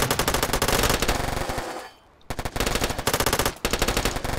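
Bursts of rapid machine-gun fire and gunshots crackle loudly from a Warfare Online strategy war game battle as grenades and gunfire strike a tank, with a brief lull midway before the firing resumes.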